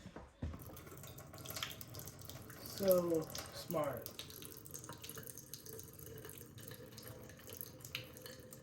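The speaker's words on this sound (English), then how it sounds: "I'm gonna be able to strain out the water. I'll just do that real quick into the sink." Water from cooked spicy ramen noodles is strained out of the container into a kitchen sink, a soft running pour and splatter against the basin. A brief spoken comment is heard and the rest stays quiet.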